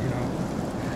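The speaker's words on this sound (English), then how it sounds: "It's raining outside." Steady rain falls outdoors as a continuous, dense patter with a low rumbling undertone, even and unbroken throughout the short stretch.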